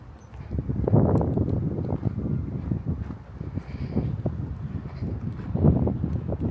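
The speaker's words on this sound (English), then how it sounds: "the wind is blowing, y'all, and I actually do not have on my microphone" Outdoor wind buffets an unprotected microphone, producing continuous low rumbling gusts and rustle that rise and fall in strength over several seconds. No one speaks.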